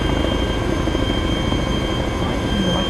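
A helicopter engine in the video game Arma 2 runs with a steady, loud rotor drone and whine, continuous throughout with no break.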